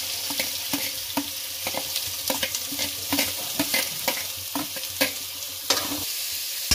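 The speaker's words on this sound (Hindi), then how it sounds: "अब एला थोड़ा भूंजना है। हल्का गोल्डन ब्राउन के होवत ले।" Chopped onions and chilli fry in a pan toward golden brown, a soft steady sizzle punctuated by regular scraping stirs of a spoon, close and without voices.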